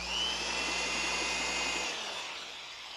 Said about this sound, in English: An electric drill.